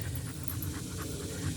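A dog panting close by in quick, even breaths, faint and alone for under two seconds.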